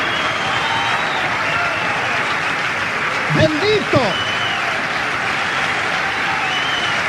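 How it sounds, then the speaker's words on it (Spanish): A church congregation applauds through an evening worship service: steady, broad clapping fills the whole stretch at an even level, and a voice briefly breaks in over it near the middle. "yo creo que Jesús merece un aplauso esta noche."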